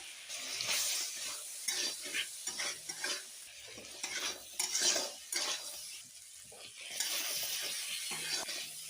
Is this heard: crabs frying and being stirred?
yes